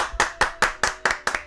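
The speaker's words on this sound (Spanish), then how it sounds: "se merece un aplauso" Applause for a listener's message, seven sharp, evenly spaced hand claps from a single person, close and crisp.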